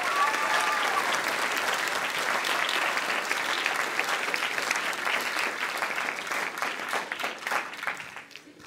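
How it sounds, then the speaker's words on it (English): Audience at a high school band banquet giving a warm round of applause, steady clapping from a room full of people that fades out over the final second. "So let's give a round of applause for Abby."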